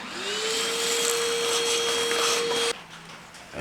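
Vacuum cleaner running inside a fire-damaged 1969 VW Beetle, a loud steady whine with a rising pitch at start-up that cuts off abruptly near the end, leaving faint background noise.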